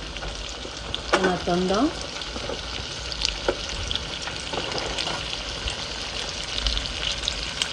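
Sliced saucisson sizzles steadily in a frying pan, with a brief burst of stirring clatter near the start and a few short spoken words over the frying.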